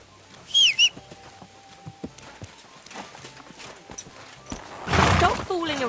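Horse from the medieval video game Kingdom Come 2, with sharp whinnies at the start, scattered hoof clip-clops, and a louder neigh near the end, mixed with birdsong and occasional voices.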